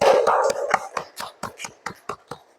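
Applause from a classroom of students for a group presentation during a teaching practice session: dense clapping at first, thinning within a couple of seconds into scattered, separate claps that fade toward the end.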